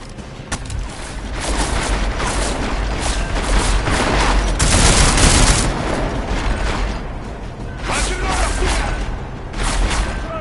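Sustained gunfire in Deus Ex: Mankind Divided, loud rapid volleys and booming impacts running throughout, with a sharp blast near the middle and brief shouted voices.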